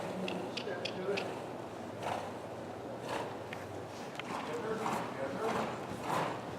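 A horse's hooves clip-clop in a steady rhythm during a riding lesson at a fence, moderately close, while an instructor talks over the footfalls.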